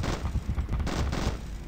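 Rapid overlapping gunfire and booming blasts rattle without pause from a gunship's artillery and machine gun in Zombie Gunship Survival, loud and dense throughout.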